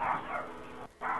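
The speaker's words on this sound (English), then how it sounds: "That sounds like my dog." A dog yelping and whining in a high, strained, repeated cry, close and fairly loud, with a brief break near the end before it resumes.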